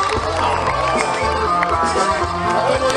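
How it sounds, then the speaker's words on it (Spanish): A bullfight crowd fills an arena with steady, loud noise and bursts of cheering, alongside music and an announcer's voice. "¡Venga el aplauso bonito!"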